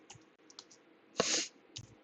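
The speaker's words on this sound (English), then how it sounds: "So I'm just typing in here" Typing on a computer keyboard while building a web development project: a few light scattered key clicks, then one louder burst of several rapid keystrokes, and a final short cluster, close and dry with no talk.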